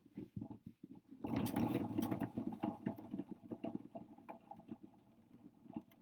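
A Lego spirograph part spins on a giant Lego base plate, giving a continuous rough plastic rattling and whirring that starts suddenly, holds steady and loud for a while, then slowly tapers off.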